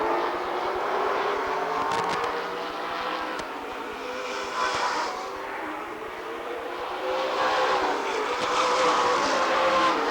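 Race cars roar around the Rockford Speedway oval at the 1994 Spring Classic, engines swelling and fading as packs pass, loud and continuous with no voices over them.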